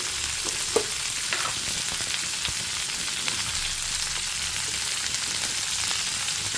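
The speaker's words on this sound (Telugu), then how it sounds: "ఇప్పుడు ఇందులో మనం పుదీనా వేసుకొని మగ్గించుకోవాలి కొంచెం ఆయిల్ వేసుకోవాలన్నమాట" Mint leaves sautéing in a little oil in a pan, a steady crackling sizzle with light stirring clicks throughout, no talking.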